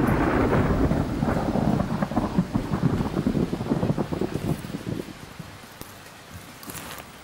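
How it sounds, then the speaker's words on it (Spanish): Thunder rolls through steady rain, a loud deep rumble that gradually fades, leaving the hiss of rainfall and faint wind behind it. "Podría llover."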